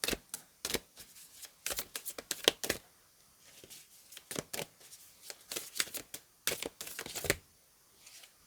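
A deck of reading cards is shuffled in quick riffling bursts separated by short pauses, crisp and close against a quiet background.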